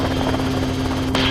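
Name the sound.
helicopter in flight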